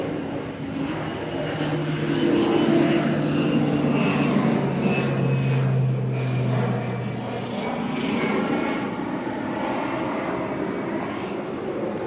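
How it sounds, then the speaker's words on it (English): A crop duster airplane drones over farm fields, its propeller engine rising and fading at moderate distance as it passes, with no talk over it. "that's a crop duster, dusting the crops"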